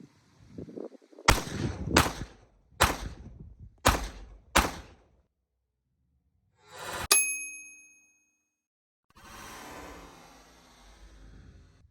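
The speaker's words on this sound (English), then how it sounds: "Let's put 5 rounds down range without a comp" A Glock 19 pistol fired without a compensator: five sharp, loud shots spaced roughly evenly about a second apart, followed by a single metallic ding with a ringing tail and a softer rustle afterward.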